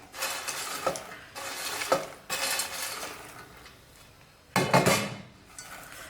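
Popcorn being stirred into melted chocolate in a bowl for chocolate popcorn, giving several bursts of scraping and rustling with brief pauses between them, fairly close, with no voices.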